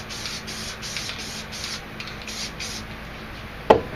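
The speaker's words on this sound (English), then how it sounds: "And then I'm going to just spray blue right here." A spray paint can puffs blue paint onto a space-scene painting in short hissing bursts at a steady rhythm, fairly faint and close, followed by a single sharp tap near the end.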